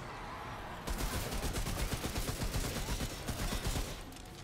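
Rapid automatic gunfire rips out in a video game shootout against a chain gunner in Remnant: From the Ashes, a dense, loud, continuous barrage starting abruptly after a moment of quieter background.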